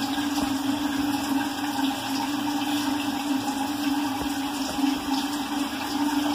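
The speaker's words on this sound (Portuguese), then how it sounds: "Deixa passar água aí uns 2 minutos, tá?" Water flows steadily through a Lorenzetti electric shower head before the breaker is switched on, a continuous hissing rush with a constant low hum throughout.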